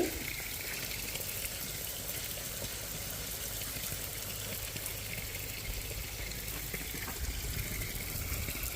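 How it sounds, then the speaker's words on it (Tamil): Steady, continuous spring water flowing and trickling nearby in a village, a broad wash of hiss with no voices over it. "இந்த சைட் பாருங்கள் அப்படி ஊற்று தண்ணி போகுது"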